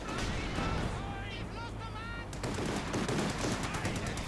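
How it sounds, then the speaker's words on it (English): Artillery barrage and gunfire in the real-time strategy game Company of Heroes 2, bursts of shots and blasts layered under game sound effects, fairly loud throughout. "Artillery cover called in here to break up HQMul's concentration on the eastern side of the map."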